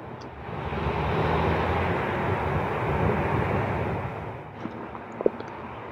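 New Jersey Transit Arrow 3 electric train arriving at Woodbridge station, a broad rushing roar under wind that fades slightly near the end, with a few clanks and clicks.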